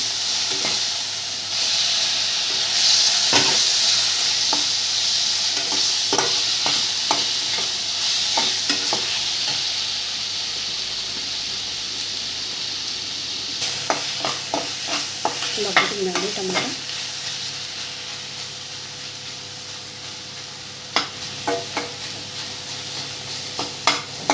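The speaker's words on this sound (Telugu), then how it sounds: "మంచిగా ఫ్రై అవుతుందండి ఉల్లిపాయ వేగిపోయిందండి" Onions sizzling in a pan for a Telangana-style egg curry, a steady frying hiss broken by repeated scraping strokes of a spoon stirring, close and clear with no talking.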